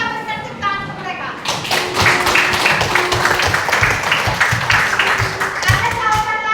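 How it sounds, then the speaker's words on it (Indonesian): Classroom applause for a group of students, a dense patter of clapping from a roomful of pupils that swells after a brief lead-in and carries on steadily, with children's voices mixed in. "Kita berikan tepuk tangan untuk mereka."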